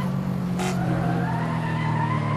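A race car in Assetto Corsa at Laguna Seca drones steadily under load, with a constant engine note and a brief burst of tyre noise, loud and continuous throughout.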